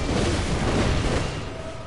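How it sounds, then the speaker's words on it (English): A dense, roaring blast fills the whole clip, a loud sustained rumble that tapers slightly at the end, from a boss's area-of-effect explosion attack in the video game Bloodborne. "She does do a little explosion, like, area of effect attack"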